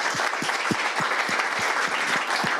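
A panel audience claps steadily and evenly throughout, a dense, continuous round of applause heard from within the room.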